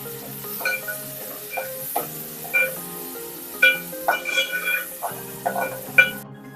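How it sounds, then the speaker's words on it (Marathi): Tomatoes sautéed in a pan over a full flame give a soft sizzle under a series of distinct spatula scrapes and knocks, spaced irregularly roughly every half second, close and fairly loud. "गॅस फुल करून घ्यायचा आहे आणि टोमॅटो एक ते दोन मिनिटासाठी चांगलं परतून घ्यायचं आहे"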